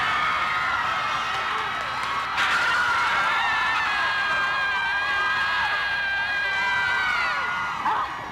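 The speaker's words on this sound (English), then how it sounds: "Everybody takes 10 minutes to open the windows and scream" Students lean out of dormitory windows during finals week and scream together, a sustained wash of distant shrieks and whoops from many voices carrying across campus.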